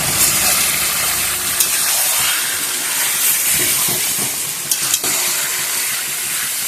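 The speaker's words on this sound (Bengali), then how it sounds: "এবার এটা খুব ভালো করে কষাবো।" Mutton being sautéed for kosha in a pan, a steady loud sizzle and hiss of frying with faint stirring scrapes throughout, close up and without voices.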